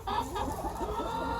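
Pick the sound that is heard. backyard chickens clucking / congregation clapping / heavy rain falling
backyard chickens clucking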